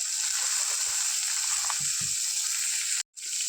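Seeds frying in a little oil in a pan give a steady hissing sizzle close by, with a few soft low knocks and a brief drop-out near the end.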